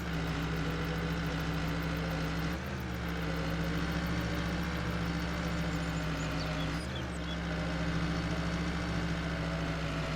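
A tractor engine runs steadily in Farming Simulator 22, a constant low, droning hum at even volume with two brief dips in the tone and nobody speaking.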